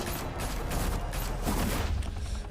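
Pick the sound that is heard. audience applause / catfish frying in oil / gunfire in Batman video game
gunfire in Batman video game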